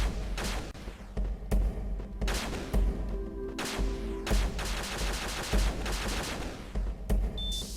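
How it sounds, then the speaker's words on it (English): Rapid bursts of arm cannon long-shot fire crackle through a video game, dense repeated blasts and thuds in an uneven rhythm with brief pauses and some electronic tones underneath, loud and close with no speech. "And our arm cannon now has a long shot function. Shoots much longer"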